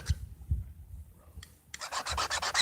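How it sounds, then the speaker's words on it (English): A tool being sharpened during flint knapping: a few soft rubbing strokes, then a steady run of rhythmic rasping strokes, close and fairly loud. "I probably should sharpen this a little bit more"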